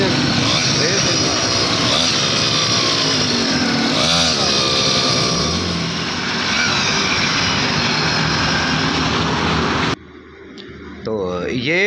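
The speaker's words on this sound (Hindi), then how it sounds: "ये रेस पर ही चलता है। ये इंजन कीड़ा है, मोटरसाइकिल का है ये कोई?" A motorcycle engine running on throttle alone with no clutch or gears, roaring loud and close with revving swells, and people talking over it.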